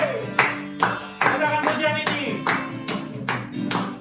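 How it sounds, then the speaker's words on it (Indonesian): A Sunday school church congregation claps hands together in a loose rhythmic pattern, sharp bursts of claps recurring over several seconds with faint voices mixed in. "Tepuk tangan sama-sama."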